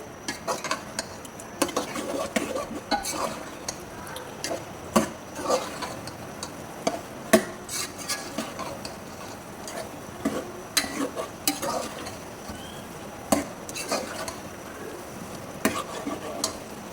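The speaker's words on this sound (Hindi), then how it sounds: "हरा मसाला, और इसकी भी हम फिर भुनाई कर लेंगे।" Green masala stir-roasting in a pan with potatoes for prawn pulao, producing a soft continuous sizzle broken by repeated sharp spoon clinks and scrapes against the pan, close and fairly quiet, with no talking.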